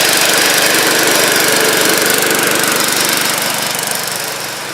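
A snowblower engine runs loud and close with a steady, rapid mechanical chug that holds throughout and eases off slightly toward the end.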